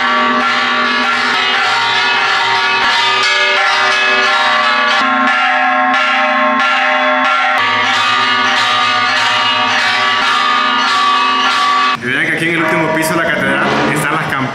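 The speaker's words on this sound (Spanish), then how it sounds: "por allá está el reloj que está tocando las campanas" The cathedral clock in Comayagua, Honduras, sets off its church bells, which ring loudly and continuously with a thick, sustained, overlapping resonance that changes character near the end.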